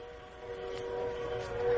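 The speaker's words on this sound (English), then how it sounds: "A train. There's a train coming. It's coming toward me." Approaching train in a radio drama, a steady rumbling rail roar with a sustained whistle-like tone, gradually swelling louder toward the end as it draws near.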